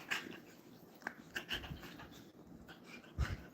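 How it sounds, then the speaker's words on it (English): Puppy panting close by, quick soft breathy huffs in irregular bursts with a few faint whimpery sounds, quiet and intimate. "Here with my puppy."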